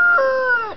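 A single short, close crow-like call from a backyard chicken, loud and clear, with nothing else heard.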